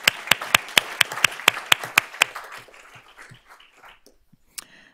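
An audience claps at a school district Board of Trustees meeting: about ten brisk, evenly spaced claps ring out for a couple of seconds, then thin out and trail off into near quiet.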